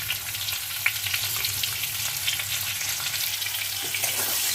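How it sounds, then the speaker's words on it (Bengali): Potatoes frying in oil with salt and slit green chili, a steady close-up crackling sizzle broken by light stirring scrapes and a couple of small clicks. "নুনটা মিশিয়ে আলুগুলো ভালো করে ভেজে নিতে হবে"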